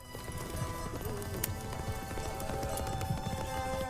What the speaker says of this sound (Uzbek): Qani haydang otlarni.